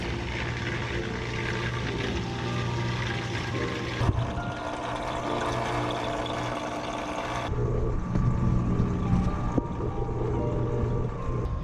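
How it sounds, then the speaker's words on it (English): A 70-gallon aquarium filter runs with a loud, steady mechanical hum and watery rush filling the whole stretch, a constant droning motor with churning water, shifting slightly in texture partway through. "now that that extremely loud 70-gallon filter is finally running"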